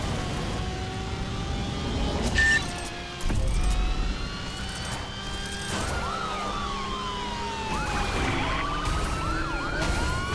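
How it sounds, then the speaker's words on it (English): A police car siren from the driving video game The Crew wails and sweeps in pitch above steady engine and traffic noise, holding at a fairly loud level for about ten seconds. "You have a free police car waiting."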